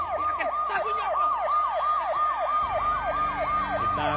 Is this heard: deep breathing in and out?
no